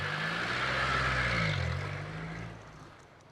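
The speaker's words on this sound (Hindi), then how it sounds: "सुनो, गाड़ी थोड़ा आगे ले जाओ।" A car engine revs close by as the vehicle rolls forward a short distance, a brief throaty surge that dips and then fades away within about three seconds.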